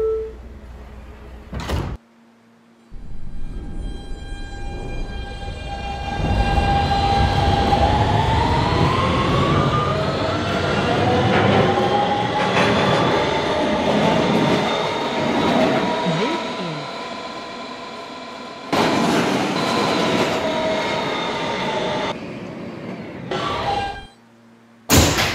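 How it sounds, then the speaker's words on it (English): A Roblox subway simulation of a Kawasaki R160B Siemens train on a Manhattan-bound Q local: door chimes and closing, then a loud motor whine rising in pitch as the train accelerates and runs steadily, ending with braking and doors. "This is a Manhattan-bound Q local train."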